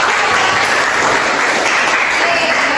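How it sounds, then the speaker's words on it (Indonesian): A classroom audience applauds a student group after its presentation in a lesson on virus replication, a dense, steady burst of clapping that is loud and close throughout. "Berikan aplaus pada kelompok"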